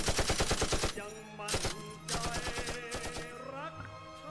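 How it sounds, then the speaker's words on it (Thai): Bursts of rapid machine-gun fire from an aircraft gunner shooting down at a jungle treeline clatter in quick, evenly spaced volleys, with brief pauses between them, moderately loud. "จากนั้นพลยิงบนเครื่องก็เหนียวไกลปืนยิงกาดลงมายังด้านล่าง"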